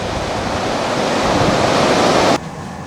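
Open Arctic ocean waves off Greenland, heard from an icebreaker ship, make a loud, broad rushing wash that cuts off abruptly near the end.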